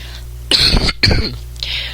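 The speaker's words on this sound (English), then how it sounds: "I was just coughing to prove a point" Two harsh coughs in quick succession, close and loud, followed by a softer throat-clearing sound.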